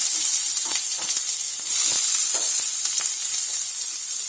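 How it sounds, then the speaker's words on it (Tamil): Chopped onions hit hot oil with fennel seeds in a pot for a Tamil rajma potato curry, giving a steady bright sizzle and hiss with a few soft stirring scrapes, close and continuous, no voices. "அரிஞ்சு வச்ச வெங்காயத்தை போடுறோம்"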